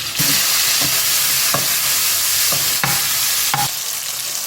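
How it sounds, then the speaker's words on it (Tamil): Chopped tomato goes into onions frying in a pan for an okra gravy, giving a loud steady sizzle broken by several stirring scrapes about once a second, with no voices. "ஒரே ஒரு தக்காளி பழம் சின்ன பொடியாக கட் பண்ணி வச்சுருக்கேன் அதையும் போட்டுக்கணும்"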